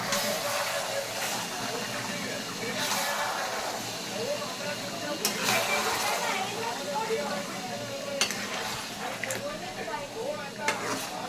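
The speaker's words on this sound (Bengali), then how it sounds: "পেঁয়াজটা ভেজে এবার মাংসটাকে দিয়ে দিলাম" Onion and meat fry in a pan with a steady hiss and sizzle, broken by occasional sharp scrapes and clinks of a spoon stirring against the metal; a voice talks over it.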